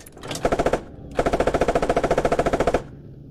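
Automatic machine gun fire in the tactical shooter game Squad, a short burst followed by a longer sustained rapid string of shots, fairly loud with no talking over it.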